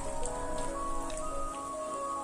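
Egg white fries in hot refined cooking oil with a steady, crackling sizzle of fine pops and spatters, close and continuous with a faint tonal hum beneath. No one talks.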